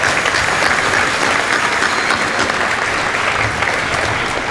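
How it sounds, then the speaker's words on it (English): Audience at a high school letter of intent signing ceremony breaks into steady, loud applause that holds evenly throughout, dense clapping filling the room. "let's give a round of applause to the parents first"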